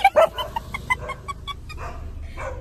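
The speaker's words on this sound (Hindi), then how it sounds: "उन्हीं को देख के भौंका ये" A dog barks in a quick burst of sharp, close yaps at the start, then trails off into softer scattered barks and whimpers, with faint background noise and no clear talk.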